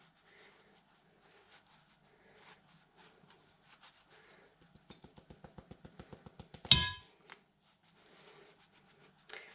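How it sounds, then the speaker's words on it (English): Rhythmic rasping strokes of a scented paste ingredient being ground on a nutmeg grater, quiet and close, with irregular scrapes giving way to a quicker even series and one louder scuff. "The nutmeg grater works a treat on grinding it."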